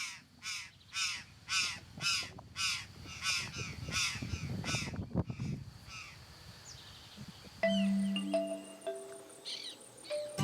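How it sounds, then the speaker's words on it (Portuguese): A group of curl-crested jays gives loud, harsh, rhythmic calls in quick succession in Brazilian cerrado, then falls quiet as softer chirps and a steady insect buzz carry on. "encontramos um grupo de gralhas do campo"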